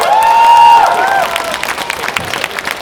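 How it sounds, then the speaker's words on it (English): Audience at a Power Rangers convention panel cheering and whooping in a loud burst, then settling into scattered clapping that fades away. "Another round of applause!"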